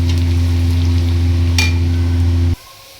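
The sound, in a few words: garlic frying in hot oil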